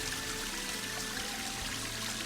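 Water rushes strongly and steadily from a gravity-fed pipe carrying water down from a hill, a dense continuous flow heard up close with no talk.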